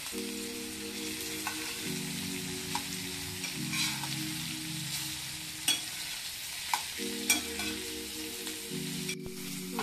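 Katla fish fries in a pan with a steady, fairly quiet sizzle. A low hum runs underneath, and a few soft knocks and scrapes are heard with no talking.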